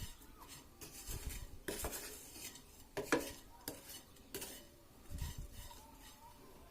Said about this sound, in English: So I'm going to just keep this on slow flame and stir it till this jaggery is melted.